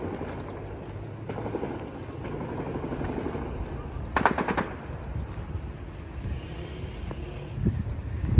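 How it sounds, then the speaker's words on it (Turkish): A quick burst of rapid gunfire cracks out at a distance over a steady rumbling background, with scattered fainter shots around it, in Hama, Syria. "Duyuyor musun silah seslerini?"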